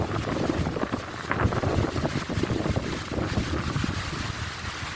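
Strong, steady gusting wind from Hurricane Nicole roars and buffets the microphone continuously, a loud broadband rush with no voices.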